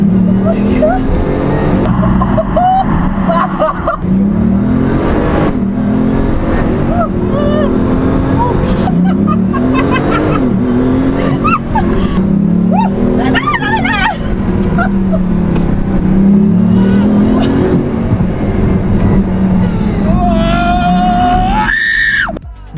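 A 2009 Bugatti Veyron Grand Sport convertible's W16 engine in a Need for Speed racing game, loud and close, with its pitch climbing and dropping through repeated gear changes and high tire squeals, ending in a sharp rising whine.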